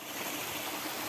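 Water pours steadily at the Tai Tam Mound waterfalls after heavy rain, a dense broadband rush of flowing water that stays loud and continuous from start to finish, with no voices heard.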